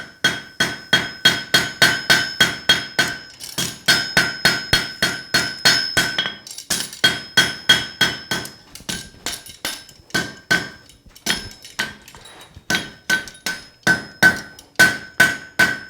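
A hammer pounds heated steel while a meat hook is roughed out at the forge, dozens of loud ringing metallic blows in fast steady rhythm, pausing briefly and resuming, with no talk.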